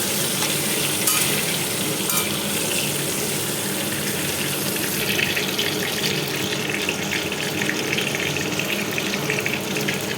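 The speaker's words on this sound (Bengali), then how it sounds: "যতক্ষণ এটা লাল লাল করে ভাজা হচ্ছে" Potato pieces coated in salt and turmeric fry in hot oil, making a loud, dense, unbroken sizzle that holds steady throughout with no voices.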